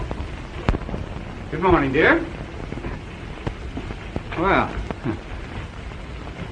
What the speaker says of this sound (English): Oh, is it raining outside?